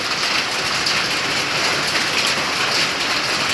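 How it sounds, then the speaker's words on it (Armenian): Dense, continuous pelting of hail drumming on surfaces nearby, a constant hissing clatter with no pauses. "ինչ տեսակի կարկուտ է գալիս"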